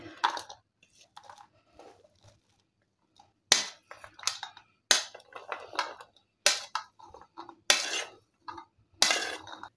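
Chopped carrot, radish, ginger and green chillies dropped into a bowl for a mixed pickle: a series of sharp, crisp clatters and rattles, close and irregular, separated by quiet gaps, with no talk.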